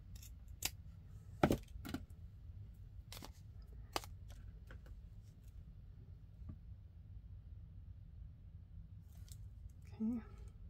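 Scissors trimming paper for junk journal pen holders, a handful of close, crisp snips spaced irregularly over a quiet room hum, with a brief rustle near the end.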